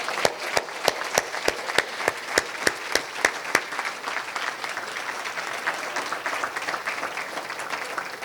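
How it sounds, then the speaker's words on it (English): Luncheon audience applauding cancer survivors and caregivers: steady, evenly spaced rhythmic claps at first, then dissolving into a broad, continuous wash of applause. "Now is the time to give the applause that we need and they deserve."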